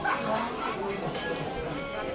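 A dog barks a few times at a tourist spot in Baguio City, fairly faint and under people talking nearby.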